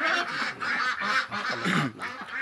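Ducks on a village duck farm give a loud, close run of nasal, honking quacks, four or five calls in quick succession with no speech over them.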